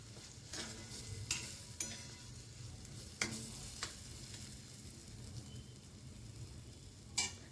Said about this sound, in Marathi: याला एकदा छान मिक्स करूया आपण.